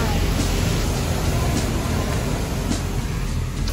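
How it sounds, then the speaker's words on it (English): Express car wash running around a car, a loud, steady roar of spraying water and machinery heard from inside, with faint whirring and hissing layered on top. "We are about to go through the 5-minute express car wash to wash our"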